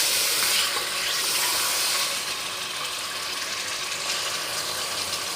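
Garlic and ginger paste sizzles steadily in a hot pan for Arabic chicken biryani, a dense, even frying hiss heard up close with faint stirring scrapes and no voices.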